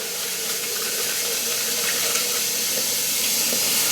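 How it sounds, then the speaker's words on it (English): Warm water runs and sloshes inside the glass carafe of a Breville automated tea maker as it is rinsed and refilled, a steady close hiss of flowing water with no voices. "Just rinsing the insides out of our carafe, dumping it out, refilling again until you hit the full mark"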